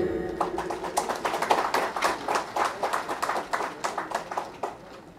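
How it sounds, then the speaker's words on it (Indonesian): An assembled audience at a formal outdoor ceremony claps in unison, a lively rhythmic applause of clear, close hand claps that carries on for several seconds. "Mari kita beri aplaus untuk kita dulu."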